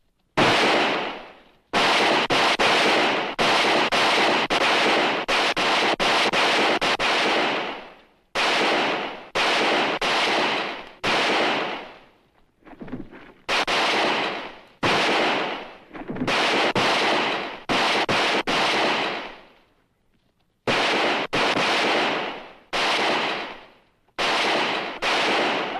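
Bursts of gunfire from a western movie shootout crack out in dense volleys separated by short silences, loud and close, with no talk over them.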